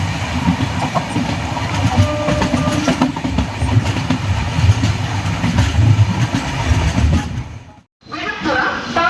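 Cholan Express passenger train rolling on rails, heard from onboard as a loud continuous rumble with clickety-clack wheel beats and rattling, cutting out briefly near the end before the noise returns.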